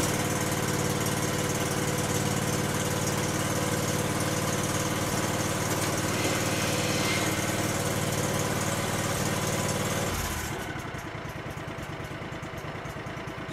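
A 1999 Cub Cadet 3205 garden tractor's 20 hp liquid-cooled Kawasaki engine running at a steady, loud, close drone for about ten seconds, then abruptly dropping to a quieter idle with a lighter vibrating chatter, no talking.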